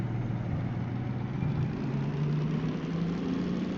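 DM3 diesel locomotive in the Derail Valley game running at high revs, a steady, loud, low droning engine rumble with a slight rise in pitch, heard alone and continuous throughout.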